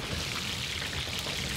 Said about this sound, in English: Pour your flame-roasted peppers over the steak.